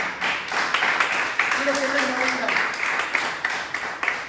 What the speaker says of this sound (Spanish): ¿Le puede dar un aplauso a Jesucristo?